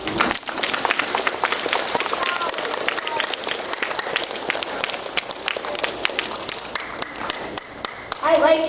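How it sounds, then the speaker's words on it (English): A room of schoolchildren at an elementary school assembly clap steadily and loudly throughout, dense applause with a few brighter sharp claps near the end. "You really want to clap all the time."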